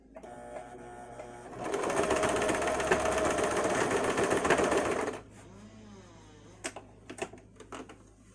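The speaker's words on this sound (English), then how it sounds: "I'm going to start by sewing that piece of elastic on." A sewing machine stitches elastic onto a fabric face mask, running in one steady loud burst of about three seconds before stopping, followed by a few faint handling clicks.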